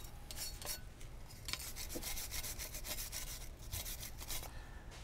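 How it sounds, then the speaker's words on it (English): A brake cleaning brush scrubs the pad-ear tracks on a BMW/MINI brake caliper bracket, producing a close, quiet, rapid rasping scrub in repeated short strokes with no talking. "Clean the tracks where the pad ears ride."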